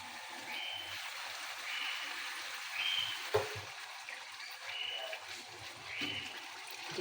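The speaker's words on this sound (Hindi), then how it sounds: "फिर इसमें आप जितना आपने शोरबा रखना है उस लिहाज से आपने इसमें पानी डालना है" Water is poured steadily into a pot of chicken and potato curry (aloo ka salan), giving a soft, continuous trickling splash with slight swells, fairly quiet and close.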